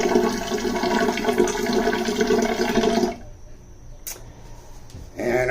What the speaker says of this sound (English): Alright guys, wash my face.